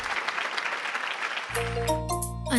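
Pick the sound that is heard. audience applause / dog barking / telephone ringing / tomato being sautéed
audience applause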